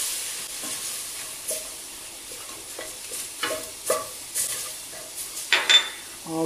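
A spoonful of flour stirred into a sizzling pan for a lamb shank stew, with steady frying hiss under repeated scraping strokes of a spoon against the pan and a few louder clinks toward the end.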